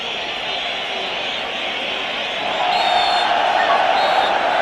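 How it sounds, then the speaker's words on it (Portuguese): A large stadium crowd at Estádio da Luz cheers and applauds after a Portugal football match: a dense, continuous roar of voices and clapping that swells louder partway through, with distant whistles riding on top. "palmas para a Seleção Nacional"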